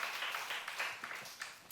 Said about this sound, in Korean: 방문하신 분들을 위해서 박수로 우리 다시 한 번 더 환영했으면 좋겠습니다.